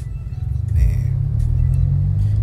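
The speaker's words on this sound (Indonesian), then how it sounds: "Jadi sudah RPM 2000 dioper teman-teman." A car engine revs up to about 2000 RPM before a gear change, a close low rumble swelling and then holding steady.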